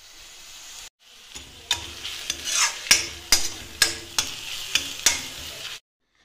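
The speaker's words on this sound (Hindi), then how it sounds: "यहाँ पे मेरी प्याज अच्छे से भुन गई है" Chopped onions sizzle in a frying pan while being stirred, a steady fry broken by repeated sharp scraping clacks of a spoon against the pan, close and clear.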